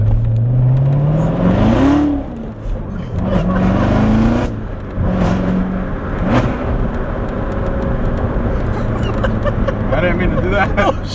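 A Corvette C7 Z06 with a Borla X-pipe exhaust revs loudly nearby, its engine note climbing and falling in several rising pulls, while people talk excitedly over it.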